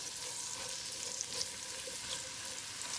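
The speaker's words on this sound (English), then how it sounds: "So we're gonna caramelize the onions a little," Onions caramelizing in a pot for a one-pot chicken and basmati rice dish give a steady, even frying sizzle with faint stirring scrapes, moderately close and quiet, with no voices.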